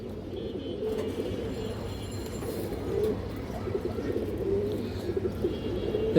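Young pigeons of a high-quality farm breed, small birds with booted feet, coo softly and continuously in a loft, a steady low murmur with overlapping calls and faint background hiss throughout.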